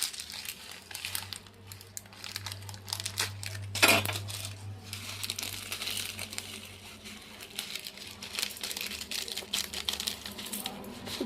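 Peanuts are roasted and stirred in a pan for a lunch of mudda pappu and tamarind chutney, a steady dry rattling and scraping that continues throughout with a louder clatter partway through.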